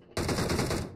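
A single loud, close video game gunshot bursts out sharply after a moment of quiet and rings on for most of a second before fading.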